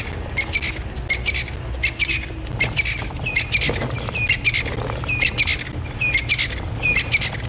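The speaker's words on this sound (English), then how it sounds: "Those are the crested francolin we can hear calling" Crested francolins calling repeatedly on a morning safari drive in South African bushveld, a rhythmic series of harsh, rasping chirps repeating steadily over a low rumble of vehicle noise.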